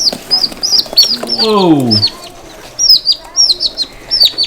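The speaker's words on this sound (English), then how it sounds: "this is one of ours out of our black Spanish turkeys that we got from Hidden Heights Farm" Black Spanish turkeys calling in a pen, sharp repeated high chirps and gobble-like calls up close, with a descending warble midway; a person briefly exclaims.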